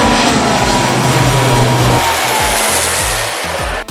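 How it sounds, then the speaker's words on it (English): Aircraft passing overhead above a Roatan, Honduras shore, a loud broadband roar that fills the whole clip, with a low rumble that pulses in the second half and fades at the very end; no talking. "you would hear those planes come over every 30 to 45 minutes"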